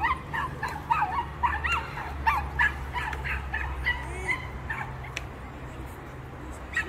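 A dog yips and barks repeatedly in quick, high-pitched bursts, whining in between, over a low rumbling background.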